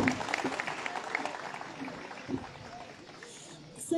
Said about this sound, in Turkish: Yine güçlü alkışlarınızla plaketlerini vermek üzere Sayın Japonya Başkonsolosumuzu ve Naip Mahallesi Muhtarımız Sayın Ferhat At